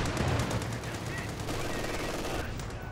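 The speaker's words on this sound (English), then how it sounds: "incendiary rounds getting some good damage in" A Company of Heroes 2 machine gun fires incendiary rounds in steady rapid bursts, a continuous rattling fusillade at moderate distance amid battlefield noise, with a commentator's voice faintly present.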